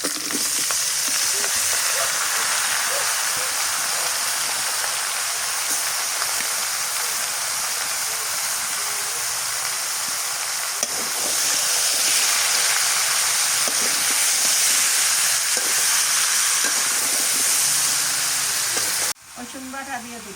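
Bottle gourd fries in a pan for a Bengali curry with salted hilsa, giving a steady, close sizzle with faint stirring scrapes. It stops abruptly near the end.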